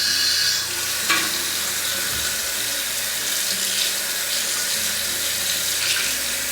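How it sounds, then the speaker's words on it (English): A bathroom tap runs lukewarm water steadily into a sink to clean makeup brushes and a beauty blender, a loud close hiss and splash throughout, with slight shifts as the flow is disturbed. "So I'm going to turn on the tap."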